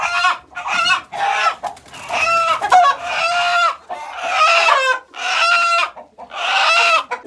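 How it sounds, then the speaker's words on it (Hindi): Chickens and a feisty fighting rooster, packed up for delivery, squawk and cluck loudly and close by in a series of agitated bursts with short gaps between them. "और ये मुर्गा सबसे लड़ाका मुर्गा था।"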